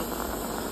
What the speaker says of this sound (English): We have water boiling in the pressure cooker.